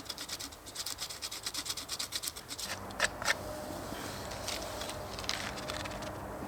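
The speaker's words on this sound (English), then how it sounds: "I'm scraping some of this silver birch" Knife blade scraping silver birch bark into tinder outdoors in a cold winter woodland, a quick run of rhythmic rasping strokes followed by slower, scattered scrapes, close and moderately quiet with no talking.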